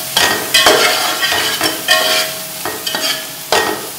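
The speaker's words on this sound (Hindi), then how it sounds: "अच्छी तरह भूनेंगे ताकि मसालों की खुशबू निकल आए" Whole spices such as bay leaf, cloves and cinnamon are stir-fried in a pot, giving a light sizzle under rhythmic spoon scrapes and knocks against the metal, close by with no talk.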